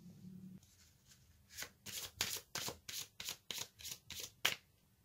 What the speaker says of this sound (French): Alors maintenant, je vais tirer une carte de l'oracle aromatique.